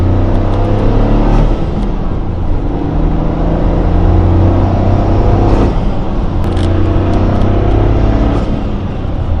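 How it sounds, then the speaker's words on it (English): Engine of a 2023 Toyota GR Corolla fitted with a carbon fiber intake and short shifter revs loudly and steadily, with a few sharp throttle surges standing out over a constant close-up drone. "it sounds great. It sounds like a cone filter, like short ram intake."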